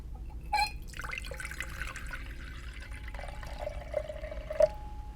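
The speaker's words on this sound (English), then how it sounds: "I'm going to pour it into this beaker, or graduated cylinder" Water poured from a container into a beaker or graduated cylinder, a steady trickling stream with a few brief splashes and drips, close and moderately quiet with no voices.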